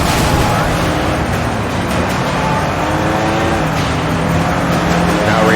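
Race cars speeding in the video game Sleeping Dogs: a loud, continuous engine roar with gritty revving that swells again near the end, filling the whole stretch.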